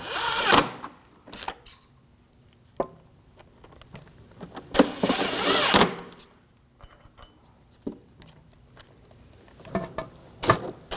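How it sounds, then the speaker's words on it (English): Screws being driven into a brake hose bracket on a 2006-2009 Audi S4, heard as two bursts of a power tool spinning with scattered clicks, taps and handling noises between them in a quiet garage. "put the screws in and tighten those down"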